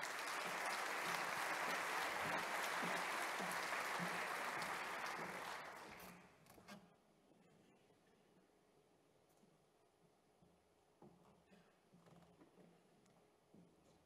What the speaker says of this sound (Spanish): Miguel, le damos un aplauso y cuando quieras todo el escenario para ti.